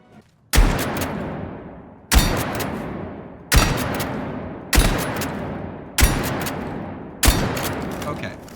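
Six loud shotgun blasts from Battlefield 6 go off at steady intervals of roughly one and a half seconds, each a sharp close boom trailing into a decaying rumble, with no talk over them.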